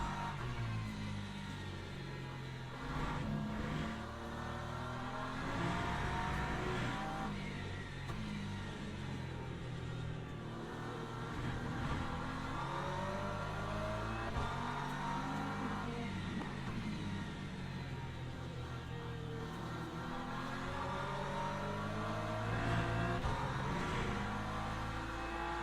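Race car engines in Le Mans Ultimate traffic, several cars revving and passing continuously over a dense, steady engine roar with shifting pitch sweeps.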